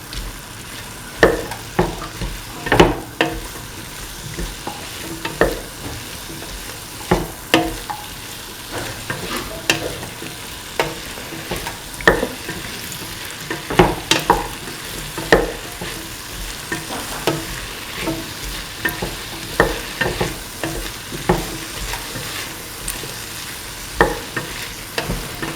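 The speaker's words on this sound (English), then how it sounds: "Mix in the hash cooked pieces with the rest of the mixture." A spoon stirs soy chunks and ash gourd in a pan, giving repeated scraping clacks at an irregular pace over a faint sizzle throughout.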